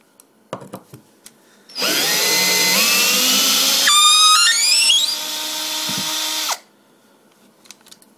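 A power drill with a screw extractor bit drills out a stripped screw, whirring loudly for several seconds, its pitch shifting as it bites, then stops; faint clicks and knocks before and after.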